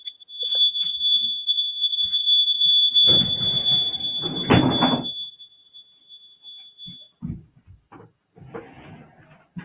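Alarm beeping during an online call: a steady high-pitched electronic tone holding for about seven seconds, then cutting off, with clattering and brief voices underneath.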